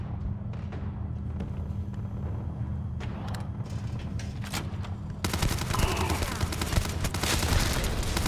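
A gun fires in the sci-fi game Starfield: scattered shots at first, then a continuous, loud stretch of rapid automatic fire with heavy recoil thuds.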